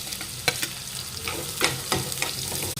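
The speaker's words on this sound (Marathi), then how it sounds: "आता कांदे टाकून घेऊया।" Sliced onions and green chillies stirred into hot oil with cumin seeds, crackling and sizzling steadily as a spatula scrapes the pan in a few distinct strokes, close and moderately loud.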